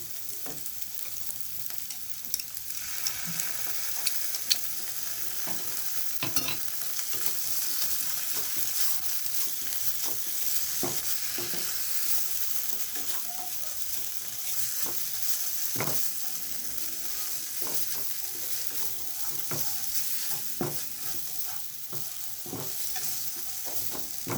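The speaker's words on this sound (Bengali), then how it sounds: "এটাকে একটু মশলাটাকে একটু ভালোভাবে কষিয়ে নেব এবার আমি এর মধ্যে পোস্ত বাটাটা দিয়ে দেবো" Spice paste with poppy seed paste sautéing in a pan for a yogurt prawn curry, a soft continuous sizzle broken by frequent spatula scrapes and taps, close with no talking.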